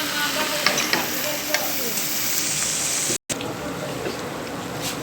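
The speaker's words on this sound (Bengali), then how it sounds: "মাংসটা কষিয়ে নিচ্ছি।" Chicken curry meat being stirred and fried in a pan, with a steady close sizzle and occasional scraping stir strokes throughout, briefly cut by a short dropout.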